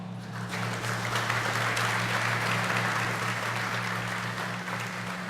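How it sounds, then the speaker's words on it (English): Guests at a U.S. Navy retirement ceremony for a petty officer with Strike Fighter Squadron 106 break into steady, sustained applause that holds at an even level over a low constant hum. "How about a round of applause?"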